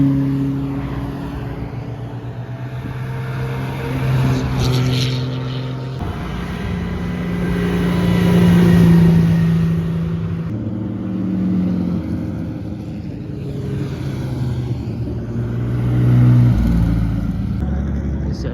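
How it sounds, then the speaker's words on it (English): A rotary-engined Mercedes sports car drives past during Monterey Car Week, its engine note swelling and fading twice over a steady hum of crowd and traffic, with other engines droning nearby. "There's the rotary Mercedes."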